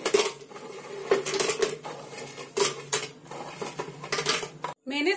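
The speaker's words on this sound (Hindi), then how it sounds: "आप मिक्सी का जार ले लें और ये बिस्किट इसमें डाल दें।" Biscuits from four packets clatter and rattle into a mixer grinder jar in a home kitchen, a run of hard clinking taps and knocks in uneven bursts, close and fairly loud, ending with a brief gap.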